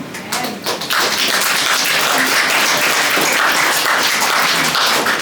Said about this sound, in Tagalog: Pumalakpak po yung nagmamahal sa Panginoon.